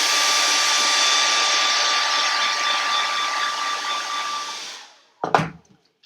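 A dryer runs with a steady loud whir while drying a fall craft block, then winds down and cuts off near the end, followed by a brief clatter.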